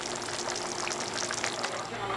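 A pot of water comes to a boil for spaghetti, making a continuous dense bubbling and sizzling hiss at moderate level, with a low steady hum underneath.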